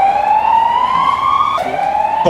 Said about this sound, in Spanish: cuando pase la sirena